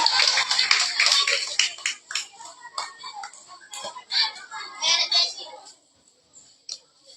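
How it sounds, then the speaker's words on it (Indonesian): Children at an elementary school National Children's Day event clap in quick, uneven bursts of sharp hand claps, loud and close, thinning out to a few scattered claps and then quiet, with kids' voices mixed in. "tepuk tangan untuk kita semuanya"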